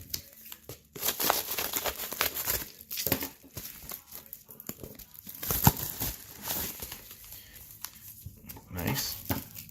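Packing tape rips off a cardboard mail package in several harsh, crackling bursts, close and fairly loud, mixed with rustling and someone talking over it.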